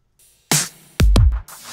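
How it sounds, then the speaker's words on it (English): A clap sample from a pop drum beat snaps sharply alongside deep kick hits in a short, punchy burst of percussion. "The first percussion element that I added was going to be claps."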